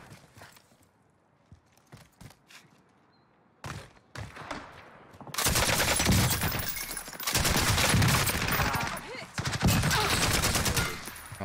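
LMG fire in Call of Duty: Warzone on Rebirth Island: quiet scattered clicks and steps give way to long, loud sustained bursts of rapid automatic shots, with brief pauses between volleys.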